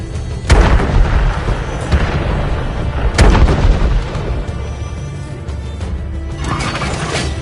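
Tank cannon shots striking targets in World of Tanks, with loud booming impacts and crashing debris, sharp blasts near 0.5, 2 and 3 seconds over a rumbling battle bed that eases toward the end.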